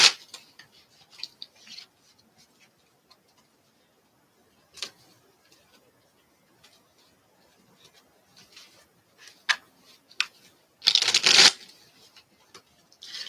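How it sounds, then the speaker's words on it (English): A deck of cards being shuffled by hand indoors, scattered soft riffles and taps close to the microphone, with a louder riffling burst near the end and quiet gaps between. "I swear I'm shuffling these."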